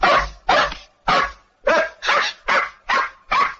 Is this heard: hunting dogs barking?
yes